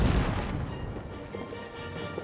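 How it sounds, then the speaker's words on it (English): A grenade bursts in a WWI trench video game, a loud booming blast at the start that rumbles and fades into a low, noisy tail. "there goes a beautiful grenade hit"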